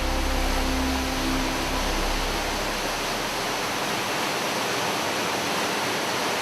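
The river at Marble Castle, Svartisen, rushes over and between rocks as a dense, steady hiss of loud, close flowing water, with a low hum fading out during the first few seconds.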